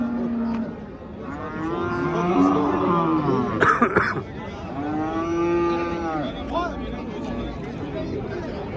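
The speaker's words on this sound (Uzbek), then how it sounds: "Sigirmi, g'inojinmi? G'inojin ekan, tug'magan." At a busy livestock market, a heifer lets out several long, drawn-out moos close by, overlapping with nearby coughing, throat clearing and chatter among people.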